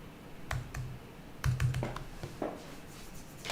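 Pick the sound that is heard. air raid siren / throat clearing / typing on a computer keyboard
typing on a computer keyboard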